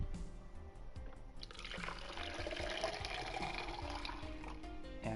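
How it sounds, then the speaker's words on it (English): Water poured from a big jug into a glass, a steady trickling stream that grows fuller and brighter as the glass fills, close and fairly quiet. "And water jug refilling ASMR."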